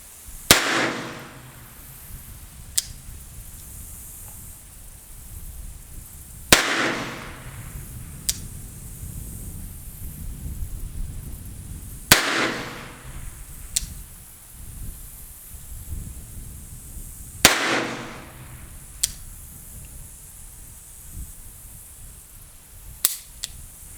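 Four loud, sharp revolver shots from a Colt New Police handgun fired at several-second intervals, each crack followed by a brief ringing decay, with fainter clicks and metallic handling sounds between shots.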